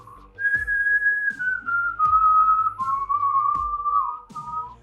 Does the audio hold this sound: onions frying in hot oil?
no